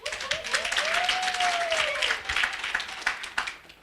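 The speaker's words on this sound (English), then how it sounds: "first clap for yourself" People at a commemoration for women human rights defenders clap for themselves in moderate, fairly quiet applause. A brief whistle-like tone rises and falls early on, and the clapping thins unevenly toward the end.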